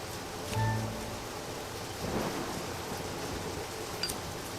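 Steady rain with a low rumble of thunder fills a scene in the Deadly Premonition video game, a constant wash of sound with a swell of thunder midway and no talk.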